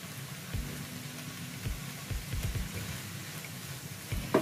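Soft sizzling of mushrooms sautéing with a pinch of salt in a pan over high heat, with intermittent low thumps and scraping as they are stirred, close by, a gentle hiss throughout.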